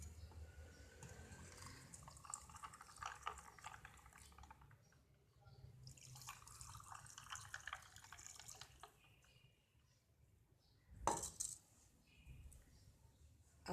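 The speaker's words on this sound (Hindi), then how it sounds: "अब जूस डालेंगे।" Watermelon, mint and lemon juice poured into glasses already filled with ice: a faint, steady trickling stream that stops and starts, with a brief louder splash near the end.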